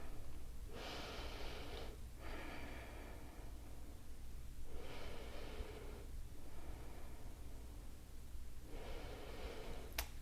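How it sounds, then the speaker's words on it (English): Slow, deep breaths during a yoga flow, each long inhale and exhale close to the microphone and rhythmic, over a steady background hiss. "Continue to breathe."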